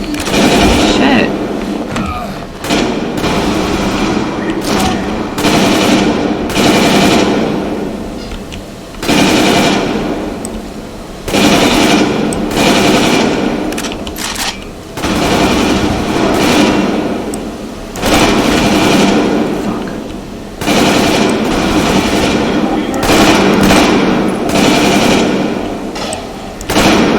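Rapid bursts of automatic gunfire from the video game Metro Exodus, repeated in loud volleys with short pauses, while a voice talks over the shooting.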